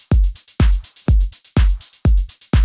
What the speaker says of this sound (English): we added some hi-hat loops like this.